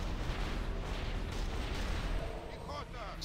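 Cannons booming in a video game, a dense rumbling barrage of heavy shots rolling on loudly throughout while a player talks over it.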